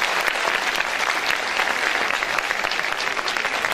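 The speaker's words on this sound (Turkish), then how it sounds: "Onlara ben buradan kocaman bir alkış istiyorum sizlerden" An audience at a school folk dance festival opening ceremony applauds the parents with brisk, dense clapping that stays loud and even throughout.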